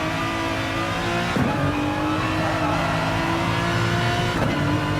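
Race car engine in Gran Turismo Sport at Mount Panorama, held loud and steady while downshifting from fourth gear toward first, with brief dips and rises in pitch as gears drop, a continuous near drone throughout.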